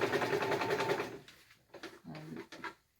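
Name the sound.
sewing machine stitching fabric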